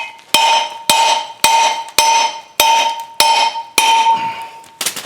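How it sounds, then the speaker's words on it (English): Metal hammer blows strike the brake rotor of a 1995-97 Ford F-250 to free it from the hub, six loud ringing clangs at roughly half-second intervals, each leaving a sustained metallic ring, then a cluster of rattling knocks. "So just keep flipping her back and forth and hammering on it."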